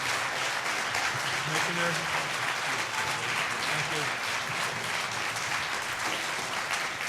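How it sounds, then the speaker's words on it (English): Sustained audience applause fills a New York State Assembly hearing room on fracking, a dense steady wash of clapping throughout with voices talking over it. "I couldn't hear over the applause."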